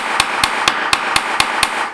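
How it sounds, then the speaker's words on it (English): A chasing hammer taps wire for French earwires against a steel bench block, seven crisp, evenly spaced metallic strikes about a quarter second apart, close and clear over faint background noise. "I'm going to simply put it on my bench block, my steel block, and I'm going to, with my chasing hammer"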